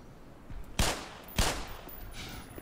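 Gunfire in the video game Black Mesa: two sharp, loud shots about half a second apart, each with a short decaying tail, followed by fainter trailing noise.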